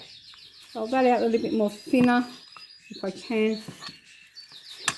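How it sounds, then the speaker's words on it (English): Pet canaries chirp and trill in the background of a home kitchen where pies are being made, high bright calls running steadily under someone speaking in the foreground. "They're my beautiful canaries."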